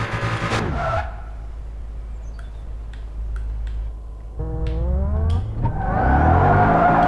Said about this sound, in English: Really hear that supercharger whine at low RPM